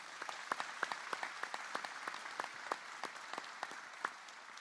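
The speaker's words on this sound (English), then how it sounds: "Another big round of applause." An audience at a Robins Air Force Base State of the Base event applauds, a faint, distant patter of scattered clapping hands with a few sharper individual claps.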